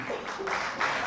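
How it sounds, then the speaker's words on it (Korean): Audience applause at an education forum talk concert, a steady dense wash of clapping filling the short moment without pause. "박수와 함께 소리가 아주 큽니다"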